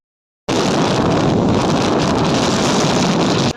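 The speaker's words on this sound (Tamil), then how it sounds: "கிளைமேட் கொஞ்ச நேரத்தில் பார்த்தா காற்று வெளுத்து வாங்கிச்சு." Strong wind batters the microphone after a brief silence, a loud, constant roaring buffet that fills the short span and then cuts off abruptly.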